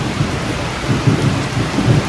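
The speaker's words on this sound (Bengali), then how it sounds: "প্রচণ্ড বৃষ্টি হচ্ছে অনেকক্ষণ ধরে ওই দেখুন" Steady heavy rain roars throughout, with low rumbling swells of thunder rolling in the background, no voices.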